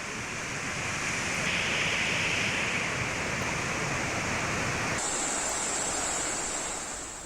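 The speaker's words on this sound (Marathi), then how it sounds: "पाण्याचा विसर्ग सुरू करण्यात आलेला आहे।" Water rushing through the opened gates of the Pujari Tola dam in Gondia district, a loud, continuous roar of discharge heard at close range, steady throughout with no voices.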